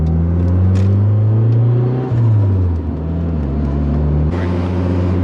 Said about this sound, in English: that turbo sound though, guys, so addicting